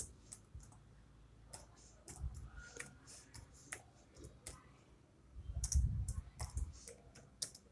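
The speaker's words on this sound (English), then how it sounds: "you can just type in here" A location being typed into a search box on a computer keyboard, with quiet, close key clicks coming at an uneven pace and a few low thumps mixed in.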